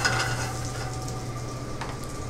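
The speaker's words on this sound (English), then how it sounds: "with this pan for the mushrooms, throw some of our smoked mushrooms in there." Smoked mushrooms sauté in a hot pan, a close, steady sizzle with a few stirring scrapes and clinks of utensils against the pan.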